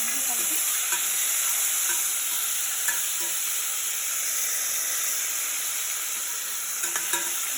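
Mango and amla pieces frying in oil for a chutney, a constant bright sizzling hiss close by with occasional faint clicks, no talking.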